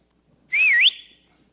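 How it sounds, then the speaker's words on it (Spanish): A single short human whistle, close and clear, wavering up and down in pitch before ending on a rising note. "ya sabe Mike, al chiflido tenía que estar ahí."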